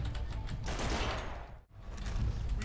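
A grenade launcher fires in the dinosaur shooter game Primal Carnage Extinction, with a dense, continuous rumble of explosions and gunfire that briefly drops out before resuming.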